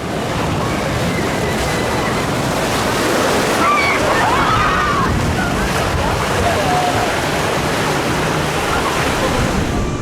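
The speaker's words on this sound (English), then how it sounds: "Here we go then on Jungle Adventure, the park's Intamin Rapids ride." Water rushing and splashing around a boat on Jungle Adventure, the Intamin rapids ride at Energylandia, a continuous loud churning wash with faint voices in the background.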